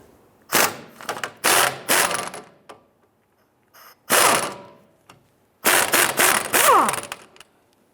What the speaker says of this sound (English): Using a 19mm deep socket, we're going to go ahead and loosen and remove this upper nut.